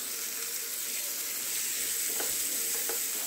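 Finely chopped onion frying with ginger garlic paste for masala pav bhaji, an even close-up sizzle throughout with a couple of light stirring taps.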